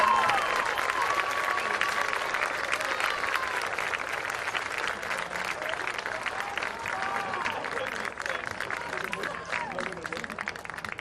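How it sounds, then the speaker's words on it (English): An audience at a state championship awards ceremony applauds the second-place Fort Zumwalt West Jaguars with sustained, loud clapping that runs the whole time, while voices and a speaker carry over it. "let's give a big round of applause for the Fort Zumwalt West Jaguars, coached by Eric Goff"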